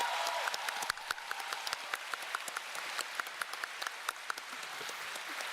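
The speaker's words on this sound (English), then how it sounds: "give them a big round of applause as well" An audience at a Final Fantasy XIV fan festival keynote in Berlin applauds steadily, a dense wash of many hands clapping at a moderate distance, sustained throughout.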